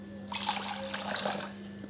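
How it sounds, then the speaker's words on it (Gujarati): Water is poured into a vessel of washed urad dal, a close splashing, gurgling stream that starts suddenly and flows for over a second before tapering off, with a faint steady hum behind. "એની અંદર દોઢ ગ્લાસ જેટલું આપણે પાણી એડ કરીશું"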